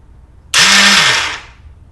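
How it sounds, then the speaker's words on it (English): A 2006 Kawasaki ZX-6R's starter motor spins without engaging the engine, a sudden loud whirring whine that holds for about a second then fades, with no ignition following. "Starter's turning, but it's not extending."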